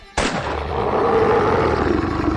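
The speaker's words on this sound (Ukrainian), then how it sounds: "Мисливець прицілився, перевів подих і зробив четвертий постріл" A single loud gunshot in a horror story about a monster hunt cracks sharply and then rolls into a long, dense roaring decay that lasts for seconds.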